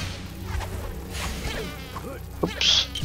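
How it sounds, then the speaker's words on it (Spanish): Giant wasps swarming out of a hive in the Forbidden Forest level of LEGO Harry Potter Years 1-4, a steady insect buzz over game music, swelling louder near the end. "ahí está la colmena por donde están saliendo"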